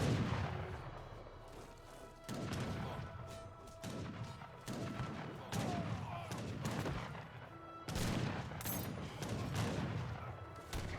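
Ranged gunfire striking Hussar cavalry in Age of Empires 3: a steady run of musket volleys and cannon-like booms, some crashing impacts mixed in. It carries through all eleven seconds at a fairly even loudness with no talk.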